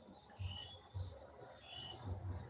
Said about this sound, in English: The cricket outside a chirp.